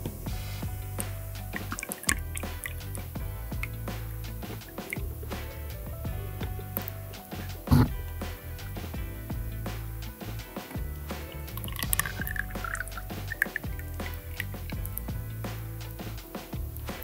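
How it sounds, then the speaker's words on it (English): Melted wax is poured into a pillar candle mould, making continuous close liquid trickling and dripping with small splashes and occasional knocks. "We're going to start pouring."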